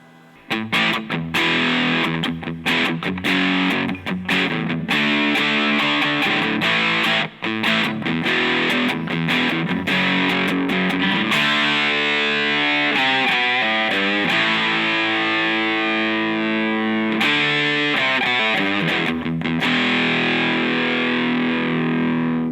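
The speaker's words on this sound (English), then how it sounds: "we're hitting those mids, but it's crazy distortion" Electric guitar played through a modded Boss DS-1 distortion pedal with heavy mids and crazy gain, loud and saturated: fast choppy riffs give way to sustained, ringing distorted chords, with no talking.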